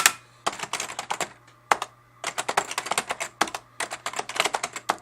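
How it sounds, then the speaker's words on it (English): Random keys are tapped on a Brother EM-411 electronic typewriter with its lid open, giving quick irregular bursts of clacks with brief pauses, close and fairly loud over a faint steady hum. "I'm just pressing random keys and the enter button."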